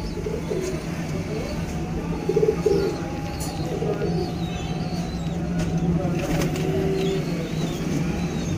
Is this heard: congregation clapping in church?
no